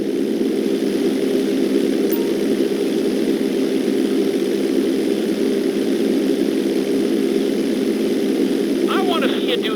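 Small propeller plane in GTA 5 flying steadily, a loud continuous engine drone with a low hum throughout and a brief voice near the end.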